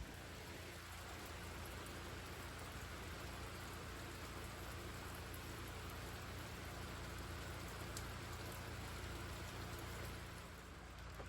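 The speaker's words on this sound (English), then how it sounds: "Waiting for this shower to stop." Rain shower falls steadily on a tarp shelter, a faint, even hiss of drops that continues without break and without voices.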